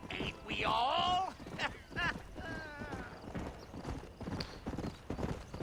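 Horse hooves clip-clop in Red Dead Redemption on Xbox One, a rhythmic trot of hoofbeats with a loud whinny near the start and murmuring voices underneath.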